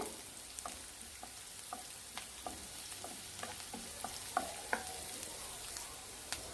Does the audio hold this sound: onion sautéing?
yes